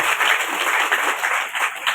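A short burst of steady audience applause at a college health-scheme inauguration, continuous dense clapping at close range with no speech over it.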